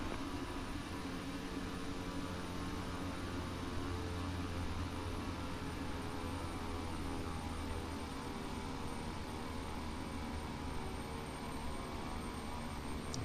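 A Cessna airplane engine drones steadily and continuously from inside the cabin during a touch-and-go, a loud, even roar with no talking.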